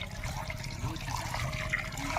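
Brinjals are swished and rubbed in a vessel of water as they are washed, giving a steady splashing, sloshing sound that stays close and busy from start to end.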